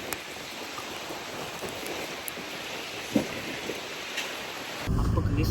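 Heavy rain falls outdoors in Berlin, Germany, a steady, dense hiss of drops with a few faint knocks, growing louder and rougher near the end.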